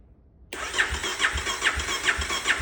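A 2018 Kawasaki KLX 250 motorcycle engine, a garage find that has sat unused, turns over on the starter after a short silence, cranking in a steady rhythmic chug of about five compression strokes, close and alone.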